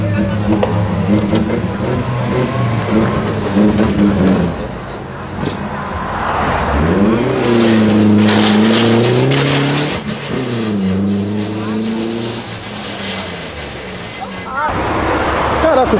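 A BMW's engine revs hard as the car slides sideways out of a car park exit, loud and close with rising and falling engine pitch, while people talk over it.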